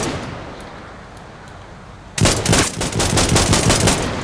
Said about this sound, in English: we shot 2 more rounds than we should have